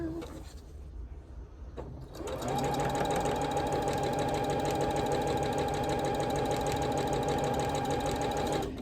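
A sewing machine stitches quilt blocks for a Blue Ribbon Weave quilt. After a quieter start it runs in a loud, steady mechanical whir with a regular rapid needle rhythm that continues to the end.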